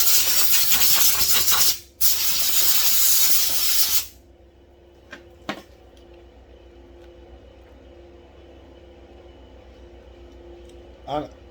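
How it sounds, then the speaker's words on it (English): Brake cleaner sprays onto an Echo 355t chainsaw in two close, loud hissing bursts with a brief pause between them, then cuts off to a quiet room with a few faint knocks. "I'm trying not to spend too much brake cleaner on cleaning this saw up"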